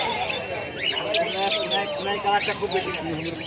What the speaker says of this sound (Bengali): ককটেল পাখি আছে